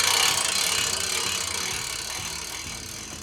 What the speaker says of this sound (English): use the winch to pull it right down nice and tight so it sits right against the strip there